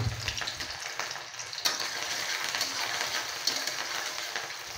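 Onion and green chilies fry in hot oil with a steady close sizzle and crackle that stays even throughout, with a few light scrapes of stirring.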